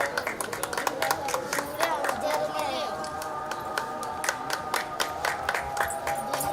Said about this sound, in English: We need to keep clapping. We need to keep applauding, you know.